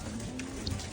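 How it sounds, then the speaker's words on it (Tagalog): Light drizzle mixed with a little snow patters softly in a steady wash of fine drops, with a few faint brighter ticks scattered over the brief stretch. "May ambon na may konting snow."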